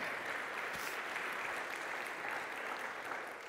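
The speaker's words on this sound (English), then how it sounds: "And you can clap for that." Congregation applause during a church worship service, a steady, moderately faint wash of many hands clapping that holds evenly throughout and eases slightly at the end, with no voices over it.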